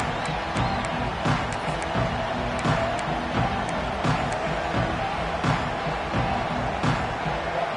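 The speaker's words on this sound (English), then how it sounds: "Listen to the crowd energy here in the early going." In the college football video game CFB25, a stadium crowd keeps up a continuous roar early in a playoff game, with sharp cheers and thumps rising at intervals over the dense background noise.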